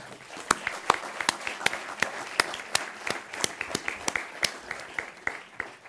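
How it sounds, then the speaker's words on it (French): Sparse, distinct handclaps from a conference audience at a national biomass colloquium, applauding the organizing team; individual claps ring out at an uneven pace, fairly close and moderately loud, with no talking. "je voudrais que vous les applaudissiez sans réserve"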